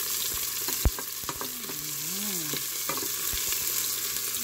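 Onions frying in oil in a pan for a fiddlehead fern (pakpako) dish, a steady close sizzle broken by a few sharp scraping stirs, with a faint whistling tone drifting in the background.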